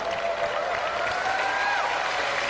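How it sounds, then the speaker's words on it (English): Audience applause in a pageant hall for eight Miss Earth finalists, a dense continuous wash of clapping and crowd noise with tonal sounds running over it. "please, a big round of applause for our 8 finalists for Miss Earth"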